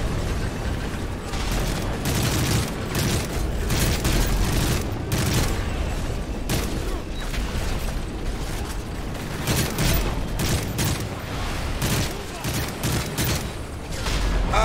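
Grenade explosions and gunfire in Call of Duty Modern Warfare 3: a loud, relentless run of sharp shots and booming blasts, many quick bursts packed close together over a constant background of combat noise.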